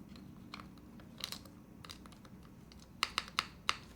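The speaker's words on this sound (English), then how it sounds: "All right, let's put some keycaps on this." Keycaps are pressed onto a mechanical keyboard: faint scattered clicks and light scraping, then four sharp snapping clicks close together near the end, quiet and with no talking.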